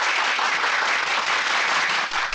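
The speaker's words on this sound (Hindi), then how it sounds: "बजाओ ताली।" Steady crowd applause fills the whole stretch, dense and continuous clapping from a large audience at a political rally scene, loud and close with no talk over it.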